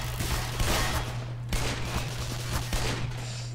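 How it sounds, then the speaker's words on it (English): Exploding barrels in the video game Black Mesa, several loud booming blasts in quick succession over a constant low electronic hum, with no talk. "Oh, those are exploding barrels."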